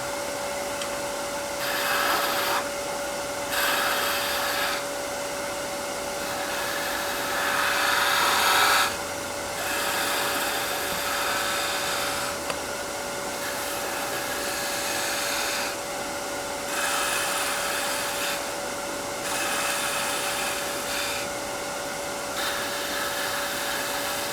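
A wood lathe spins while a spindle roughing gouge cuts the turning workpiece, a steady motor whine with a constant tone and repeated bursts of harsher scraping as the tool engages and lifts off.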